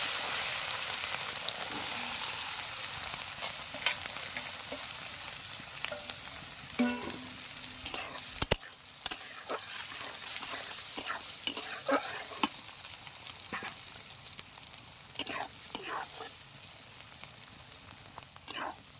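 Boiled broad bean seeds fry in hot oil with whole cumin, a soft steady sizzle broken by scraping stirs and sharp spatula knocks against the pan.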